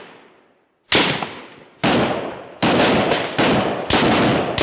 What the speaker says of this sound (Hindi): रणनीति के तहत एक आगे फायर करते हुए बढ़ता है तो दूसरा उसे कवर फायर देता है।